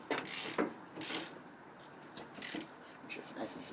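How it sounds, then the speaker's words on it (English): Wrench ratcheting a ball joint press to install a ball joint on a Jeep WJ, quiet irregular clicking strokes repeating every second or so, close by in a workshop. "Turn your wrench to tighten."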